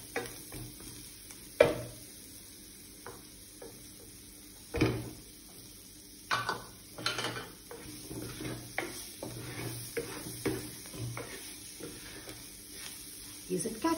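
Capsicum stirred in a pan with two spoons of oil, giving a soft continuous sizzle broken by irregular scraping and knocking of the spoon against the pan, with a sharp clatter near the start.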